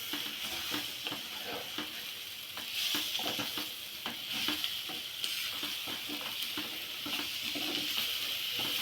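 Egg and tender tamarind leaf curry being stirred in a hot pan, with repeated scraping spoon strokes over a steady, close sizzle throughout and no talking.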